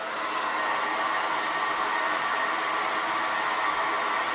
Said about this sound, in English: I have to keep picking up my blow dryer.